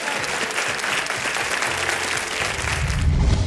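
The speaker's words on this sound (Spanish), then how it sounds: "Artista, un fuerte aplauso." Audience applause for a copla singer on a Spanish television music show, a steady dense clapping from a studio crowd that holds throughout and swells slightly near the end.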